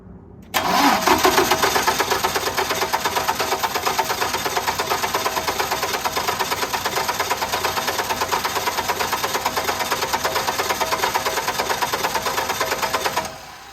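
A large propane generator engine cranks steadily after a brief start, with a rapid, rhythmic starter churn and occasional attempts to fire, loud and close throughout before cutting off abruptly, with no voices.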